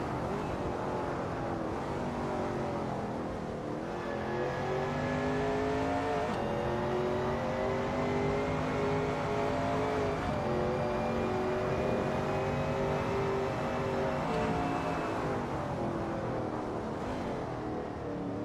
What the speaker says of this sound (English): That Shelby Cobra 351 looks good driving through Craner curves.